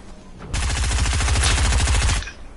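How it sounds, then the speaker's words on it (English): A combat SMG fires in a video game, one sustained automatic burst of rapid, evenly spaced shots running close and loud for nearly two seconds, then stopping abruptly. "Ooh, combat SMG."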